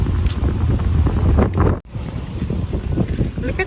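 Strong wind buffets the microphone beside wavy Lake Geneva, a loud rumbling roar with a short drop near the middle, and faint voices may be mixed in.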